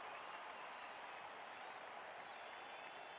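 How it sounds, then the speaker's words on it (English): Cheering fans in the crowd of the Blood Bowl video game, a steady broadband roar of applause and crowd noise, moderately faint, running evenly throughout with no speech. "Cheering fans."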